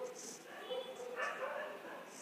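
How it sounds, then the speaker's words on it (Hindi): A domestic dog barks and yips in short, repeated bursts over steady background noise, while a voice talks at the same time. "ये भौंकता कौन है"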